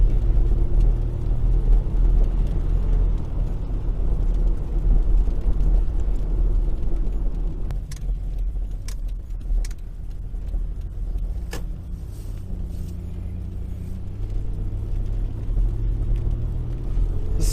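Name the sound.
2000 Toyota Estima V6 van engine accelerating while driving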